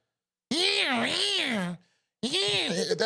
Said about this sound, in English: What the hell is that? That's like a cat.